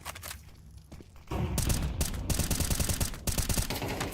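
Sniper rifle shots ring out in an esports video game match, sharp cracks in rapid succession that burst in after a quieter stretch with footsteps, loud and close, with little talk.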